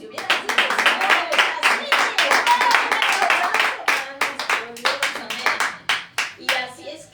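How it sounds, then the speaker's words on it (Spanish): A church congregation claps rhythmically in unison, sharp regular hand claps at a brisk even beat that loosen and slow slightly toward the end, loud and close. "Ay, qué fuerte aplauso."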